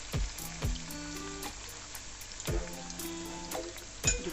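Akara frying in oil gives a faint, steady sizzle with a few soft knocks and clinks over the hiss.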